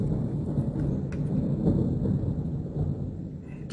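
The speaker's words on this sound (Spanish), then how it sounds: "Está cayendo un palo de agua aquí ahorita. Son truenos." Thunder rumbles low and continuously through a heavy downpour of rain, the deep roll filling the background with steady rain noise and a few sharp cracks.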